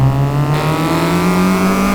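A K-swapped Honda Civic EG with VTEC climbs a mountain touge road, its engine droning loud and steady close up with a smooth rising pitch and a sharper climb at the end.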